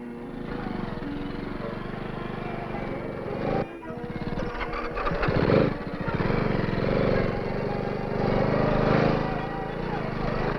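A 1962 Honda CT Trail 55 trail bike engine drones steadily close by, its pitch briefly dipping then rising again as it revs, with someone talking over the engine.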